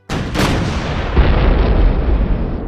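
Loud booming blasts, one sharp crack followed by a deep rolling rumble that swells and lingers, like a series of heavy explosions.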